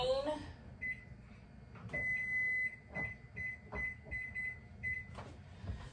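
A kitchen oven timer being set gives a string of short, high electronic beeps, a few isolated ones and then a quick run of presses. They are close but quiet, with light kitchen handling noise around them.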